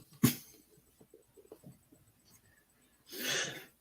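A sudden sneeze erupts near the start, followed by faint breaths and small shuffling noises, then a second louder burst of breathy sound near the end, all in a quiet room.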